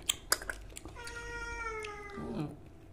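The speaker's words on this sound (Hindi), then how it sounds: "बिल्ली लालू आ गया, लालू फ्रूट खा गया" A cat lets out one drawn-out, wavering meow that rises and then falls. It is close by, with a few light taps and clicks just before it.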